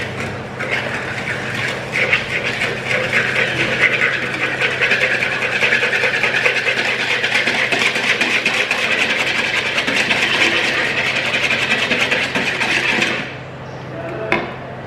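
An electric mixer whirs steadily and loudly for about thirteen seconds as it beats cake batter of butter, orange and eggs, then shuts off.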